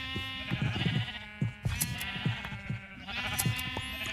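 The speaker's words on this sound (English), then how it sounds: "I think I have too many sheep." Sheep in the video game Minecraft bleat repeatedly, several overlapping baas close by over a background of steady musical tones, with no talking.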